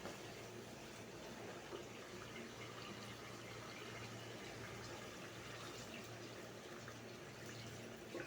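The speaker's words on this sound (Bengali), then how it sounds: "এখন আমি ঝোলের পানি অ্যাড করে দেবো।" Water poured steadily into a pot of browned meat curry, a continuous, even rushing pour lasting the whole stretch with no pauses and no talking.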